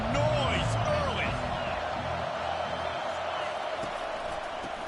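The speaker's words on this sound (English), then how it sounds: "This crowd bringing the energy and noise early." A football stadium crowd roars as a broad, steady wall of noise with scattered whoops and cheers, loud and continuous throughout.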